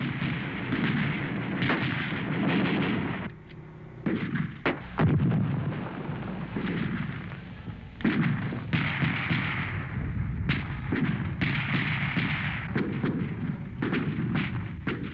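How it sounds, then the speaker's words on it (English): Sustained gunfire and heavy weapons fire on a Vietnam War battlefield, dense rattling bursts and booming blasts rolling almost without pause, loud and continuous with a few short lulls. "The Viet Cong are plowing the field with bullets."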